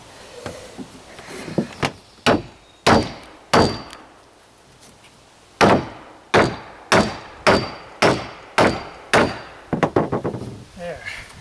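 Hammer driving a wedge to straighten a bowed deck board while fastening decking, about a dozen sharp, close, loud blows in irregular bursts, ending with a quick flurry of lighter taps.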